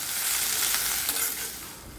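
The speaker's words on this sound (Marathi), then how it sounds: "मग मी परत कढीपत्ता आणि मिरचीची फोडणी दिली" Curry leaves and green chillies sizzle in hot oil for a tempering, a loud, steady close-up crackle and spit with no voices.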